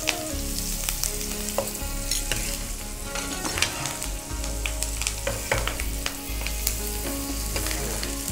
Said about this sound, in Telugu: ఇది ఆల్మోస్ట్ ఫ్రై అవ్వచ్చింది కదా